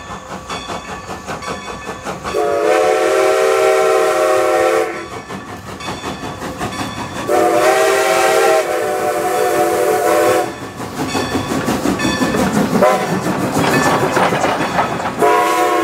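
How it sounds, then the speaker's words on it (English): Decapod steam locomotive number 90 hauling an excursion train on a 4.5-mile route, loud repeated whistle blasts over chugging exhaust and rolling rail clatter, with no talk. "the railroad's venerable decapod number 90 was also hauling excursions that weekend"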